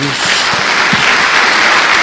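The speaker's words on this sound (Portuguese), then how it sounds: "Dê uma salva de palmas a Jesus." Church congregation applauding in praise during a Portuguese-language service, a loud, steady wash of clapping that holds evenly throughout, with a faint voice briefly audible underneath near the start.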